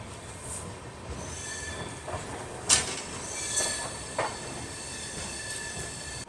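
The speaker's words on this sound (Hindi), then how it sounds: "ट्रेन तो अपनी निकल चुकी है हलवद रेलवे स्टेशन से।" A Bandra–Bhuj AC Superfast train pulls out of Halvad railway station, a small single-platform stop, with steady rolling rumble, wheel squeal and a few sharp metallic clanks over continuous track noise.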